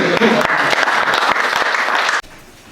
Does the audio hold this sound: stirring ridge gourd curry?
no